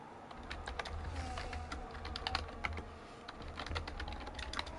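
Rapid, continuous keystrokes on a computer keyboard while a message is typed during a sim racing league broadcast, close and steady over a low background hum, with no voices.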